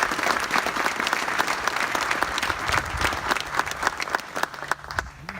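An audience claps in sustained applause at an outdoor Veterans Day event at a historic house, a dense patter of many hands that thins out toward the end.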